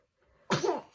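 A single brief sneeze bursts out close to the mic after a quiet moment, sharp at onset and tailing off quickly.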